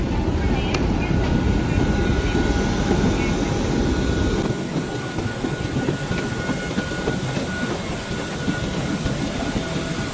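Steady, loud engine roar of an airliner being boarded for a flight to Jeju, a continuous broadband rumble with a faint whine, running unbroken throughout.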